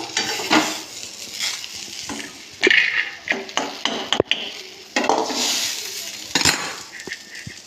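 Fried kalla and green chillies are lifted from a pan into a separate dish: irregular scraping and clinking of a utensil against metal, with bursts of light sizzle between the strokes, close and fairly loud.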